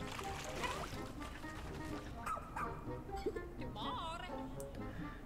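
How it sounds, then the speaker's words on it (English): A dog in a Nintendo game trailer barks and yips in short bursts over game music, with people talking over it. "Nintendo loves adding random dogs to games"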